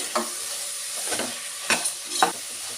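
Soaked dried peas, salt and spices sauté in a pan for pea biryani, a soft steady sizzle broken by a few scraping stirs.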